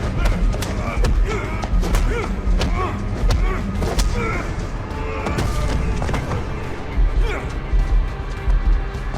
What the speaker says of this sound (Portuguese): Esse soco parece um canhão